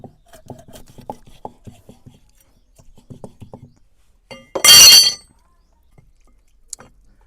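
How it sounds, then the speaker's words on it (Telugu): A knife chops fresh fish into pieces on a cutting board, village style, giving a series of short, close, irregular taps. A loud, brief clatter follows, then a few faint knocks. "నేనైతే ఈ సైజ్ అయితే కట్ చేసుకుంటున్నాను ముక్కలు"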